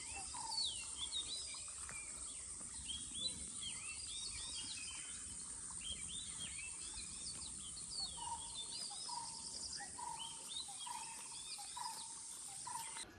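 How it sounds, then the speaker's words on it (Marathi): Many birds chirp and sing together in a steady outdoor morning chorus, with insects buzzing continuously underneath; no one speaks. "सकाळी सकाळी कसलं भारी वाटतंय बघा पक्ष्यांचे आवाज"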